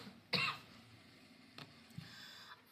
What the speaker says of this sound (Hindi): बीच बीच में मुझे थोड़ा सा भी खांसी भी हो गई है